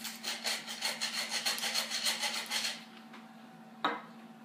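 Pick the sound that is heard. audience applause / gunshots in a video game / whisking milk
whisking milk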